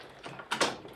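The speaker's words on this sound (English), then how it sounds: "Gearbox check, we're in neutral there, down into first" The gearbox of a 1984 Yamaha YZ250 motorcycle is shifted from neutral down into first, a brief close mechanical clunk and ratcheting click with no voice.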